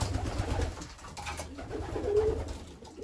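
Racing pigeons coo in a loft, soft repeated throaty calls at close range over a steady low background rumble, with no talking.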